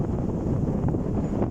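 Strong desert wind gusts roar steadily against the microphone, a loud, continuous low buffeting with no other sounds.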